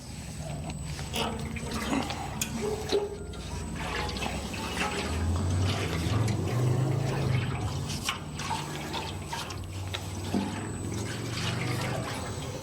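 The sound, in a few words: FERTAN tank coating sloshing as fuel tank is rotated and flipped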